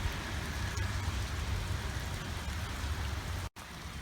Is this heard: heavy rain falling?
yes